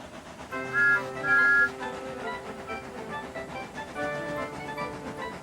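Steam engine whistles sound steady tones in a couple of short, louder blasts, then a long held chord over faint background rumble.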